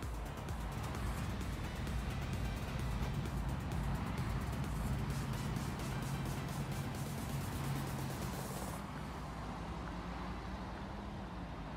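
A heavy transport truck drives steadily in the Bau Simulator construction game, a continuous loud engine drone and road rumble that holds throughout with no talk over it.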